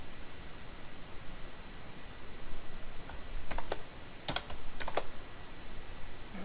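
Keystrokes on a computer keyboard entering a cell entry in a spreadsheet, a few scattered clicks in short bursts over steady background hiss, fairly faint and without talk.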